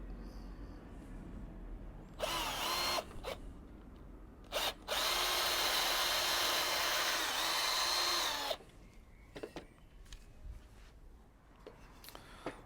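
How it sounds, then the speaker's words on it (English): A power drill countersinking holes in the wooden pieces of a pizza oven table: two short whirring bursts, a brief blip, then a long steady whine of about four seconds biting into the wood, followed by quiet handling clicks. "I'm just going to countersink."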